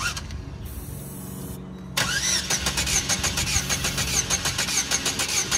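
A Chevy S10 pickup engine, modified with nitrous, starts up and revs hard as the throttle opens, a loud close rapid pulsing roar after a quieter whirring start, with no talk.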